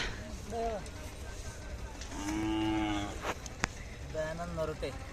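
Khillar cattle moo several times close by at a livestock market, low drawn-out calls with pauses between them.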